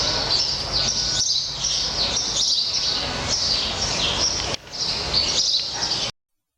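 A flock of house sparrows chirps and squawks continuously, a dense, loud chatter of overlapping calls close by that breaks off abruptly at the end.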